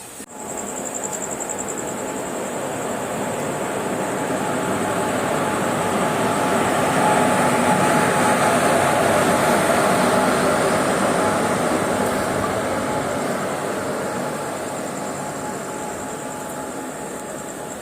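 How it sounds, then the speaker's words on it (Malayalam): Bhavnagar–Trivandrum Express pulling into Shoranur Junction, heard from inside a sleeper-class coach as a steady, loud rail rumble that swells gradually and then eases slightly as the train slows. "നമ്മുടെ ട്രെയിൻ ഷൊർണൂർ ജംഗ്ഷനിൽ എത്തിച്ചേർന്നിട്ടുണ്ട്."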